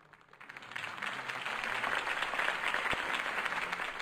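Crowd applause rises after Harvey Dent's campaign speech in the Batman Telltale video game, a dense, steady clapping swell that builds within the first second and holds, with a faint tonal music bed underneath.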